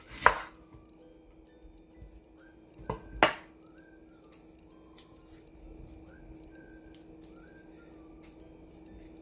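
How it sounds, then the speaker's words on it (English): Bear claw chopper cutting salad toppings in a home kitchen, a few sharp chopping knocks early, then sparse light taps and clicks, close, with faint birdsong in the background. "using our bear claw, we're cutting up our toppings"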